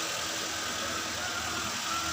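A Daihatsu Xenia 1.3 engine idles at steady RPM, a constant close mechanical hum with no rise or dip, heard alone; the engine has a fault of stumbling in the mid range and failing to idle.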